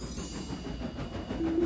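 Toy train engine running along a model railway track in a Thomas and Friends scene, a soft continuous rumble with faint rhythmic clicking of wheels on rails, fairly quiet and steady throughout.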